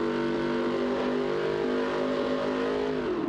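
Cammed LS3 engine in a 1968 Camaro in BeamNG.drive, held at high revs with a loud, continuous close-up roar and slight wavering in pitch.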